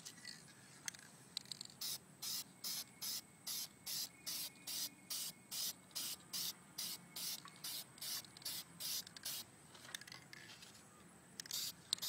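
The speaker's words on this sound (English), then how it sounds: "Spray this where the triggers are." An aerosol can sprays paint onto an Xbox 360 controller in a steady series of about eighteen short, even hissing bursts, close and clear over quiet room noise.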